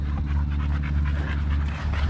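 Cane Corso puppies pant close by in quick, steady, rhythmic breaths after a play-based training session, with a faint whimper at times and no talking.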